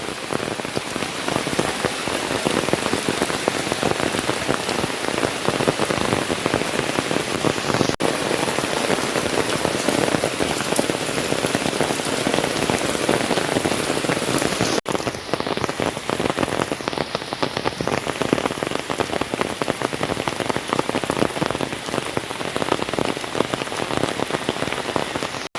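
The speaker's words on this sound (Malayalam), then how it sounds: "മഴ സ്റ്റാർട്ട് ചെയ്തു ഗായ്സ്" Rain falling steadily on an evening, a dense, even patter of drops on surfaces that stays loud and unbroken throughout, with no voices.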